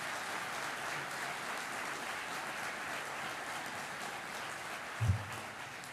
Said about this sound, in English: if we can get a round of applause for all these individuals sitting here